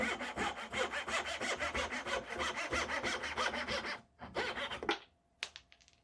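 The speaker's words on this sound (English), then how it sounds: "Now to remove the wedge and saw off the rest of the dowel." A hand saw cuts through a wooden dowel on a rolling block rifle stock, steady back-and-forth rasping strokes close up for about four seconds, then a few slower final strokes before the piece comes free.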